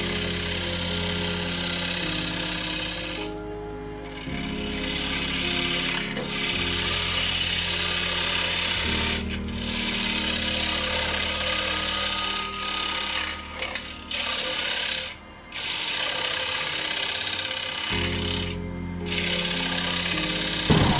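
A skew chisel cuts wood spinning on a lathe, giving a loud, continuous scraping hum with pitch shifts and a few brief pauses as the tool lifts from the workpiece.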